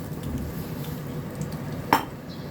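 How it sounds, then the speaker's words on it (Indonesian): An egg fries in oil in a non-stick Teflon pan over medium heat, giving a steady close sizzle with a single sharp utensil clink near the end. "Ini aku mau goreng telurnya terlebih dahulu."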